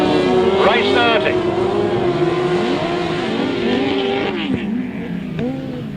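Grasstrack motorcycles roar off the start of race 30 at a 2010 grasstrack meeting, a loud continuous rising engine drone with shifting revs, a commentator talking over it throughout.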